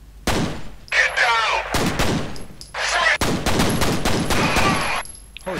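Repeated gunfire rings out in the first-person shooter F.E.A.R., in several loud close bursts with short gaps between them. A voice briefly joins in under the shots.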